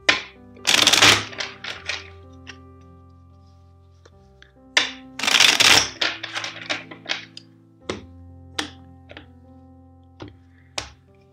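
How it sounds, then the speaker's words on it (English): Two bursts of rapid riffling tarot cards, each followed by a few crisp taps and thuds as the deck is squared, quiet and close. "Two more shuffles."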